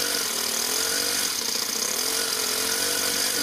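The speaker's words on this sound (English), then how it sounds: "Now give a bit of rev, the clutch should engage." A small engine revs up as its clutch engages, a close, loud buzzing drone that climbs slightly in pitch and holds steady throughout.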